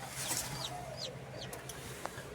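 A mother hen stands in a cage and gives soft, repeated clucks and short chirpy calls against a steady low hum, fairly faint and close, with no talking.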